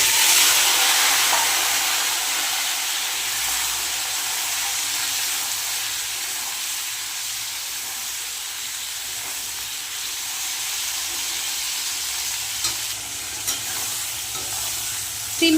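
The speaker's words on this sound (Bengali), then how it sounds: "তেল বসিয়ে দিয়েছি কড়াইতে, প্রথমে একটু হালকা করে সিমগুলো ভেজে নেব।" Flat beans fry in hot oil in a wok, giving a steady close sizzle and crackle that runs the whole way, with brief stirring clatters near the end and no talk.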